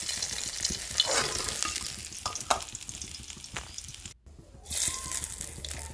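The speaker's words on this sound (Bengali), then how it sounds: "এইবারে আমি মাছ ভাজা তেলের উপরে দিয়ে দেবো কালো জিরে ফোড়ন" Black cumin seeds sizzle in hot oil left from frying fish, a steady crackling hiss with faint stirring clicks, close and continuous, briefly dropping out near the end.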